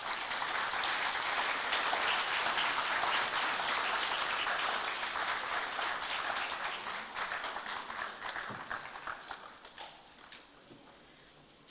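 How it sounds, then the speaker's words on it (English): Sustained audience applause at the close of a distinguished university lecture, a dense crowd clapping that holds steady, then thins out and fades toward the end. "Can we give him another round of applause, please?"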